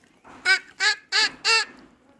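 A person imitates a duckling's call with four evenly spaced, nasal, honk-like calls, close and fairly loud, each about a quarter second long, with no other talk.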